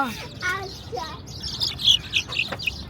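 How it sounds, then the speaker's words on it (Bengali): Sparrows chirping close by in quick, high twittering bursts that grow busier toward the end, with a brief child-like voice near the start. "চড়ুই পাখি কিচির মিচির করতেছে।"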